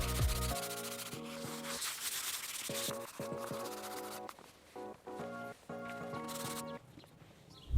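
Wooden shutters with gapped, weathered slats are hand-sanded before painting, producing rhythmic close-up rubbing strokes in short bursts separated by brief pauses, alone with no speech.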